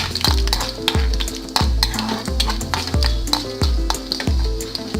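Cumin seeds and chana dal crackle and sizzle in hot oil with popping mustard seeds, while a spoon scrapes and stirs the pan in a steady rhythm of regular clanks, close and loud, with no talking.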